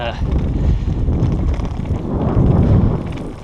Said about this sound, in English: Bloody wind, for fuck's sake.